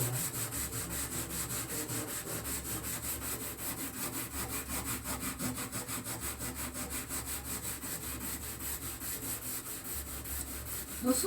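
Steady rhythmic scraping of sandpaper on guitar wood, close and continuous, with quick back-and-forth strokes and no talking.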